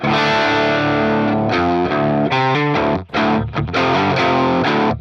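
The bridge pickup of an electric guitar feeds a Behringer SF300 Super Fuzz pedal into a Marshall amp, producing loud, buzzing fuzz chords with short choppy breaks between sustained strums.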